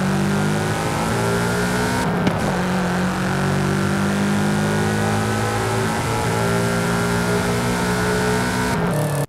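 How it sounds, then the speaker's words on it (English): A Subaru BRZ engine drives in Forza Horizon 5, a steady loud mid-pitched drone with continuous harmonic engine tones. Two brief shifts break the sound, one near the start and one near the end. "Now we've got a Subaru BRZ."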